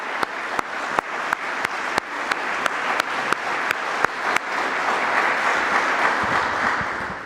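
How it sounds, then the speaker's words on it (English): Applause from an awards ceremony audience honoring Senator Tammy Duckworth and another honoree: a few sharp, evenly spaced claps at first, then swelling into sustained, fairly loud crowd clapping. "let's give them both one more round of applause"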